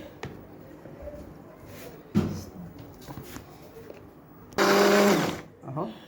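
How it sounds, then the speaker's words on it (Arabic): A blender runs in a home kitchen with oil added to homemade tahini, a loud steady whir for about half a second near the end, with brief bumps and clatter earlier and a short burst afterward. "هحط نص الكوبايه زيت افضي اهو. وهضرب بقى في الخلاط"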